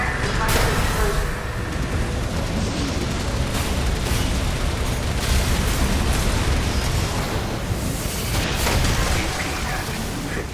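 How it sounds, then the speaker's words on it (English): A long, loud explosion in a video game set in an underground exploration area, a dense roaring rumble with bursts of debris-like crackle that keeps going for about ten seconds. "Direct deposit explosion."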